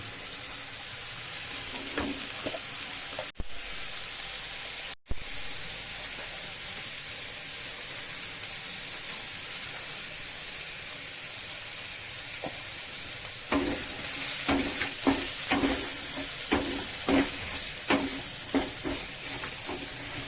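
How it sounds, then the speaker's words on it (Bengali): Soybean chunks sizzle continuously in hot oil in a wok, a dense close hiss with occasional sharp knocks, and a run of scraping stir strokes near the end. "সয়াবিন ভাজছি এখানে সবাই সোয়াবিন ভাজা চলছে"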